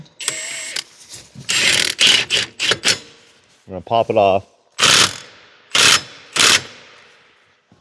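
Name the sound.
impact gun removing Polaris Ranger primary clutch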